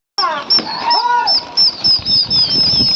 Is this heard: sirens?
no